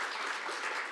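Audience applause at a film screening of Bucha, a brief dense wash of many hands clapping together at steady loudness.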